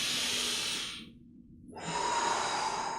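Deep, slow breathing during a pregnancy exercise routine, with a long audible exhale, a short quiet pause, then another full breath drawn in, close to the microphone and alone.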